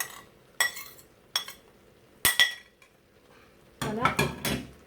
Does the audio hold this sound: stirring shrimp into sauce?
yes